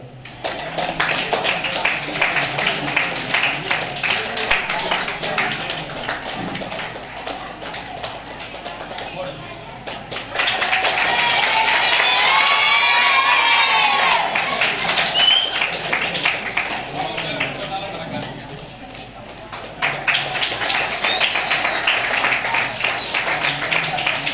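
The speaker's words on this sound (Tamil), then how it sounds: "உங்களுடைய கைத்தட்டல் உற்சாகத்தோடு." An audience at a Tamil astrology event applauds, with loud, dense clapping that swells in a strong middle burst before easing off, and people talk throughout.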